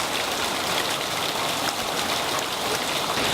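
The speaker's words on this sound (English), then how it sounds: "feeding the water that's freshly coming down from the earth and creating this river." A river flows inside a cave, fed by fresh water coming down from the rock, making a loud, steady, broadband rushing wash with no letup and no voices.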